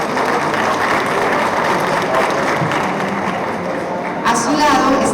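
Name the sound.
audience applause at a book launch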